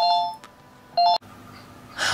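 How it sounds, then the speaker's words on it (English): A phone gives two short electronic tonal beeps in a quiet room, the second louder and close by, followed by a soft click and a faint hiss, with no talking. "I'm so sorry about the phone ringing."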